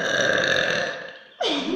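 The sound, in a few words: burp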